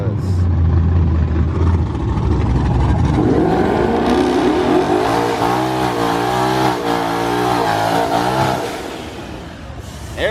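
A twin-turbo 2020 Ford Mustang GT with a Hellhorse Performance twin-turbo kit launches down a drag strip, the engine loud and close as it revs and pulls hard through rising gears for about eight seconds before easing off.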